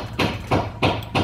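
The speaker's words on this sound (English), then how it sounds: "I'm sorry about the noise in the background." Hammer banging on a car in a garage during rear brake pad work on a 2020 Hyundai i40: four loud, evenly spaced metallic blows about a third of a second apart, with no talking.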